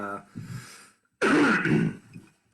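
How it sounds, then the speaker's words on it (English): A brief voiced sound, then a pause before a loud, rasping cough-like burst close to the microphone. "I'm sorry for the cough."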